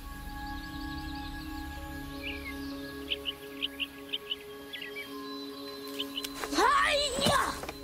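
A small bird gives a short run of faint, high chirps, evenly spaced for a few seconds over quiet background hum, before a loud voice breaks in near the end.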